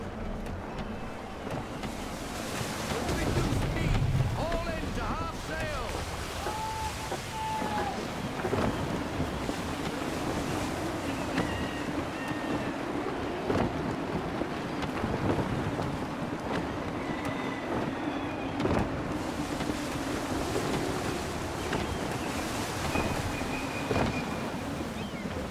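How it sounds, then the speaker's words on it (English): Gusty wind rushing steadily while sailing a ship in Assassin's Creed III, a broad continuous roar with a low rumble and creaking, holding at an even level throughout with brief swells. "Gusty winds can be difficult to manage."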